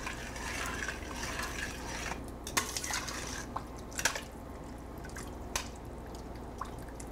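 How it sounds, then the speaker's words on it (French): Water poured into a lamb tajine and stirred, a steady trickling pour with a few sharp clinks of utensil against the pot and softer liquid sloshing afterward. "Et j'ajoute l'eau par-dessus. On mélange comme il faut."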